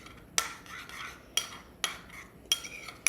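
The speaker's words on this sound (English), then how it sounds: "since I forgot to add the zest to this mayonnaise sauce, we're just gonna stir it in now" A spoon stirs lime zest into a mayonnaise sauce for Baja fish tacos, giving four sharp, evenly spaced clinks against the bowl over a faint, quiet background with no talking.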